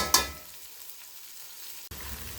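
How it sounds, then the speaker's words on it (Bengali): Tomatoes, chopped ginger and green chili fry in a pan, a steady close sizzle after a sharp initial clatter as they hit the oil, with a brief pause near the end before the hiss resumes. "এখানে আমি টমেটো কয়েকটা আগে একটু কষিয়ে নিচ্ছি, সাথে আছে একটু আদা কুচি, কাঁচা লঙ্কা"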